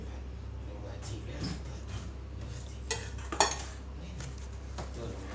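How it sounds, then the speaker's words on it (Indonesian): A spoon works through chocolate cake batter mixed with melted Blue Band margarine in a bowl, making soft scrapes and light clinks, with one sharper knock against the bowl near the end. "aduk-aduk lagi ya bun pelan saja mengaduknya asal tercampur"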